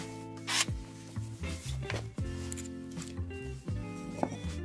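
A drill bores a counterbore hole into a wooden board deep enough to hide a screw head. The motor whines in short, close bursts, with the tone dropping each time the bit bites into the wood, and there are scraping rubs in between.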